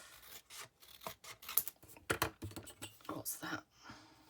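Scissors snip paper for a pyramid treat box in short, faint crisp cuts with small rustles, close by, with a few light handling noises between them.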